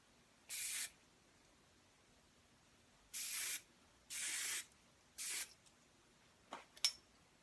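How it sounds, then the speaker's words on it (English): Hairspray can spritzed onto hair while styling a French twist updo: four short hissing bursts at steady spacing, close and fairly quiet, followed by a couple of small handling clicks. "I'm going to use my hairspray because I want to form like another ridge right here"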